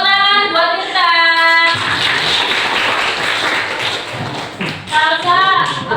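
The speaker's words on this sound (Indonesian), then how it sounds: "Tepuk tangan buat kita." A classroom group applauds for a few seconds, their clapping a dense burst that follows a loud harmonic tone and dips before rising again.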